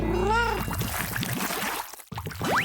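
A voice imitates a cat meowing, a bright, close, rising-and-falling meow followed by a second upward meow, over busy background noise in a kids' craft setting.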